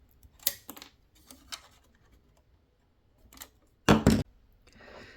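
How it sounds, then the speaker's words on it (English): Wire cutters snip through wires on an M16 halftrack in a few sharp, separate clicks spaced irregularly, with one louder double snap near the end, close and crisp against a quiet background. "Then we cut those wires off."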